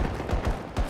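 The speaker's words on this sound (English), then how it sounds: "Oh, who's shooting at me?" Rapid gunfire in the video game Battlefield 2042, a burst of loud repeated shots in quick irregular rhythm filling the whole moment, with no talk.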